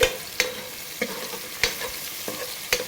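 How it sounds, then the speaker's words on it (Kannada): Onion frying in a pan for a ridge gourd dish, a soft continuous sizzle punctuated by about six sharp, evenly spaced utensil taps and scrapes from stirring. "ಸೊ ಈರುಳ್ಳಿ ಸ್ವಲ್ಪ ಫ್ರೈ ಆಗಲಿ."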